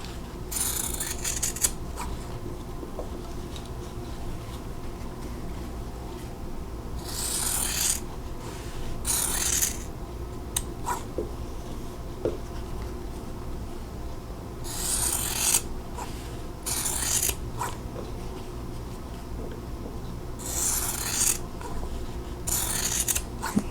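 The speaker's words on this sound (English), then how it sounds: "now I'm going to snip them all apart" Scissors snip and rasp through quilting fabric, cutting half square triangle pieces apart in bursts of repeated close cuts separated by quiet pauses.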